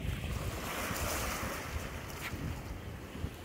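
Gentle sea waves wash steadily in a small sheltered bay in Thailand, a continuous broadband surf hiss mixed with some wind noise on the microphone, with no talking.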